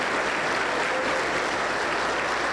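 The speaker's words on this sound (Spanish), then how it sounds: "Aplauso para el Señor Jesús." Congregation applause fills a Pentecostal church service, a steady dense wash of clapping with no gaps that holds evenly throughout, without voices on top.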